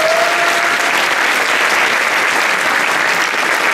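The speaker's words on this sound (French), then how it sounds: "vous pouvez l'applaudir." Theatre audience applauding after a stage comedy performance, a loud continuous wash of clapping that stays full and even throughout, with no voices over it.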